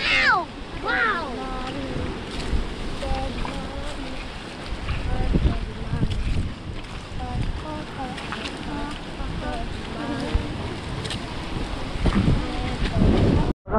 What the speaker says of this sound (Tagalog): Dulo na kasi ng cove kaya malakas ang alon.